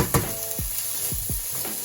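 Ham frying in a pan, with a soft steady sizzle and a few quick scraping stirs repeating every half second or so, close and fairly quiet.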